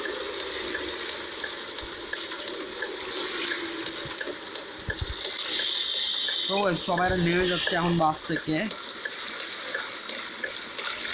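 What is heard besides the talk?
rain and water sounds in Bus Simulator 2023 video game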